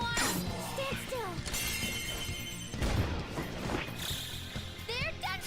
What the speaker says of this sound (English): An enemy's frozen. Let's shatter it in one strike.